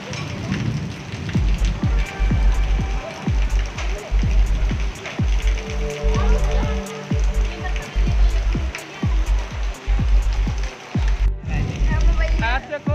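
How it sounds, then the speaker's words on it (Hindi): Heavy rain pours steadily in a village in Balrampur, Uttar Pradesh, a dense, continuous wash with irregular sharper taps and knocks scattered through it, close and loud throughout. "आज देखो हमारे यूपी में बारिश हो रहा है भाइयों, ये देख सकते हो बहुत तेज बारिश आया है।"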